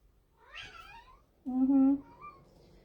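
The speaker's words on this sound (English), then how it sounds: "Now she feels free to meow all the time" A cat meows twice up close: a short, thin mew, then a louder, drawn-out meow.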